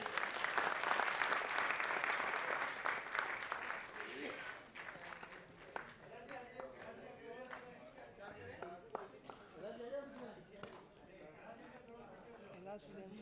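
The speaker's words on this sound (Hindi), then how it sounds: "एक बार तालियां बजाएं।" Applause rises from a crowd at a film launch ceremony with a lamp-lighting ritual, loud for the first few seconds, then fading into murmured chatter and scattered claps.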